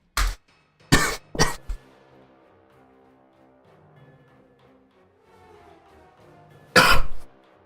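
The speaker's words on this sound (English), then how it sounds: "I'm coughing." A man coughs several times in quick bursts near the mic, pauses through a quiet stretch, then gives one more loud cough near the end; no talking.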